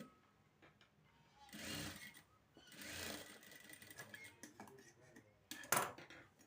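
A domestic sewing machine stitches a fold into a traditional skirt in several short bursts of rapid whirring and clattering, close and fairly faint, separated by pauses.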